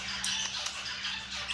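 A pet budgie gives a few quick, harsh, scratchy squawks close up in a quiet room, short bursts coming in a rapid, irregular cluster.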